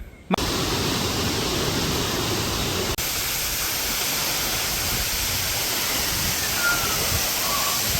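Roaring waterfall hidden in forest near Chiplun, heard up close as a loud, steady broadband rush of falling water that fills the whole clip, with no talking.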